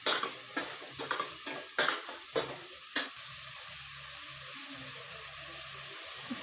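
Cut tomatoes are sautéed with onions in a pan, with a run of sharp spoon scrapes and clatters at first, then a low steady sizzle continuing alone.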